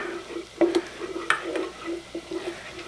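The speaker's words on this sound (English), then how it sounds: "we're just gonna wait a little bit while the garlic is getting done" Garlic frying gently in a pan while a quinoa dish is prepared, a soft low sizzle with a few light stirring scrapes and clinks, fairly quiet and without talk.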